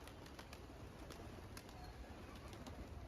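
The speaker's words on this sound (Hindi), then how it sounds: "ये देख सकते हो भाइयों, सारे कबूतर आ चुके हैं हमारे।" Soft pigeon coos and rustling wings close by, with faint repeated ticking under a steady low background hum.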